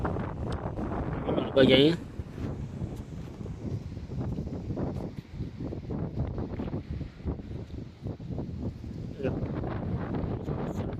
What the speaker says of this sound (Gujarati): પવન ફૂલ છે, જોઈ શકો છો તમે